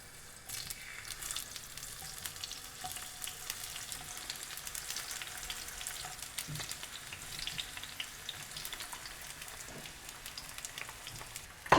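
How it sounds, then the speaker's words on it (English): Food doing a quick fry in a couple of tablespoons of olive oil in a hot pan over high heat: a soft, rain-like crackle and sizzle that runs steadily throughout, quiet and close, with no talking. "And now I'm just going to do a quick fry"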